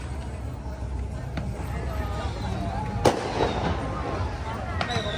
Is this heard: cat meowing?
no